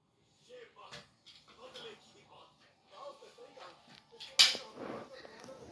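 A single sharp toy gun pop cracks out amid people talking, followed by more chatter.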